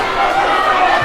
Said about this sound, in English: a live and lively crowd